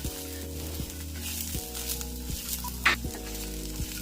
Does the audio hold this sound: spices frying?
yes